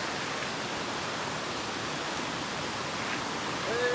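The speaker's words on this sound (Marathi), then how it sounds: "तिकडं पुढं धबधबा आहे" A waterfall at Lavasa rushes in monsoon rain as a steady, even roar of broadband water noise that holds at a constant level throughout, with no voices.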